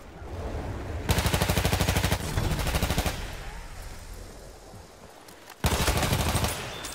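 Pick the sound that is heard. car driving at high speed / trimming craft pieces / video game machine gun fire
video game machine gun fire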